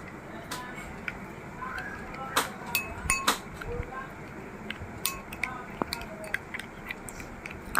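Cornflour mixture being stirred in a bowl, with light clinks and taps of a spoon against the bowl scattered over several seconds, faint and close under a soft voice.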